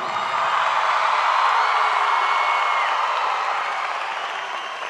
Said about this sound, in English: let's have a round of applause for the Riverside High School's class of 2019.